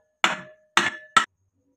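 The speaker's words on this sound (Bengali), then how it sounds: "এবার এটাকে হাতুড় দিয়ে বাড়ি দিলেই এটা বেরিয়ে যাবে।" Hammer blows on an electric motor part to knock it loose, three sharp metallic strikes with ringing overtones, the last two closer together, loud and near with no talk.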